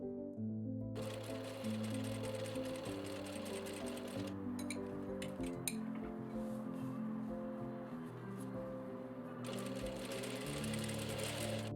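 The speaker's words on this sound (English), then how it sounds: "I'm gonna stitch it with a 1 centimeter seam allowance" A sewing machine stitches fabric ruffles with a 1 centimeter seam allowance for a dress, running in steady, fast, continuous bursts with a short slower patch in the middle, close and loud with no talking.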